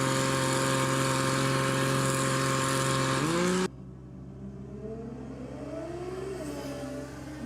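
A drag race car at a racing shootout holds a loud, high, steady engine note with strong harmonics for several seconds. It then cuts off abruptly, and a quieter, more distant engine rises and falls afterward.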